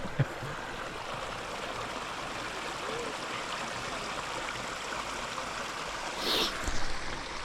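A creek near an off-grid cabin in Vermont flows in a steady, soft rush and trickle that continues without a break. Near the end comes a brief brighter splash or rustle, and no one speaks.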